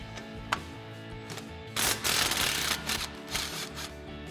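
A 10mm socket on an impact wrench spins a bolt off the steering knuckle of a 2021-2023 Ford Bronco during a Fabtech leveling kit install: a loud, close burst of rattling hammering for about two seconds, with a few sharp clicks and shorter bursts after.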